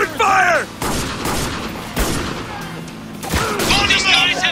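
Gunfire in the war video game Spec Ops: The Line, with loud bursts and booming shots exchanged throughout the firefight while shouted voices call out over the shooting.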